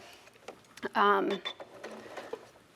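A sewing machine stitching raw-edge appliqué on a quilt runs in a brief burst of rapid mechanical clatter, with soft handling noises before and after.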